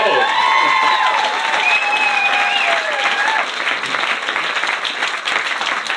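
Wedding guests break into loud, sustained applause filling the room close by, with faint tones and murmured voices mixed through the clapping.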